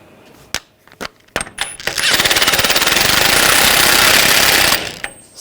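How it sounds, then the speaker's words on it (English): A power impact tool tightens the front spindle nut on a 2014-2018 GMC Sierra 1500 pickup, starting with a few sharp metallic clicks, then a loud, steady rattling hammer for about three seconds before it stops abruptly, close up. "The spindle nut, tighten that down."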